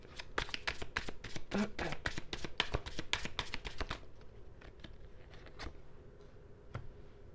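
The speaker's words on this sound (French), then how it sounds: "Je vais juste tirer une troisième carte. Alors, je vais remettre ça là où c'était." Tarot cards shuffled and handled in a rapid run of crisp riffling flicks, then fewer, scattered card snaps as one is drawn and set back, close and alone with no talk.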